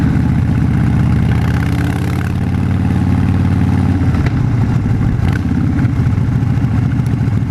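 A Harley-Davidson Fat Bob motorcycle engine thumps and rumbles steadily and close up while riding, a loud low pulsing throb that shifts slightly partway through, with no voices.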